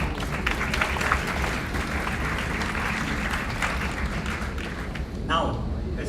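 Audience applause at a university teaching event, a dense, steady wash of clapping lasting several seconds, with a voice speaking over it near the end.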